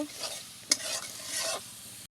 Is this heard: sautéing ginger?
yes